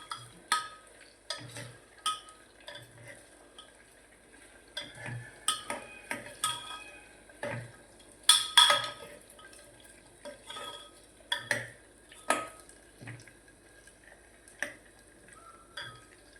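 A spoon scrapes and stirs potato peel curry in a pan, making a string of irregular clinks and scrapes against the metal, close and fairly crisp, with quiet gaps between strokes and no talk.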